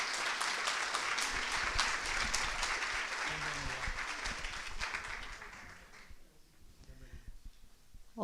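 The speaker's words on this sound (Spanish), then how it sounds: "Y la recibimos con un aplauso, por supuesto." A crowd at a hospital conference on traditional medicine claps loudly and steadily in welcome, the applause thinning out toward the end as a voice begins faintly underneath.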